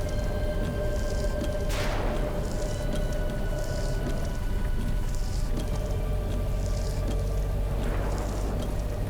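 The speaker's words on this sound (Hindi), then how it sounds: "कितनी जोर की बारिश हो रही है।" Heavy rain falls steadily outdoors at night by an old haveli, a continuous dense hiss with occasional louder splashes and swells, no talking.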